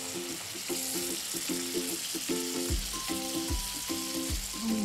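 Strips of chicken in orange and vodka sauce fry in a hot pan, a steady close sizzle with bursts of crackling and occasional stirring clatter, no talking.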